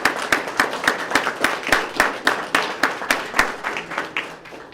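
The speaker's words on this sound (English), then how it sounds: "so let's give them a round of applause" A small crowd at a Sarasota police swearing-in ceremony applauds in a rhythmic, steady clapping, fairly close and moderate in volume, with sharp regular claps that fade slightly toward the end.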